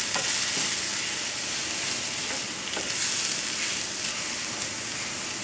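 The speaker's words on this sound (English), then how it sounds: "So we'll saute this" Vegetables for crawfish étouffée sauté in a hot pan with a steady, bright sizzle and occasional soft stirring scrapes, close up, with no voices.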